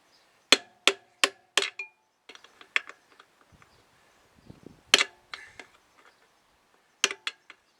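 Aluminium drift hammered against a tyre security bolt during tyre removal, sharp metallic strikes in quick bursts of four or five, then a pause and further blows, close and clear with no talk.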